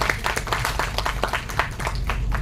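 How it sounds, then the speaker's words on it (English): An audience at a campus zero-waste event claps for a school, a brief burst of steady, fairly close applause with rapid overlapping hand claps. "So we must give a big clap for them."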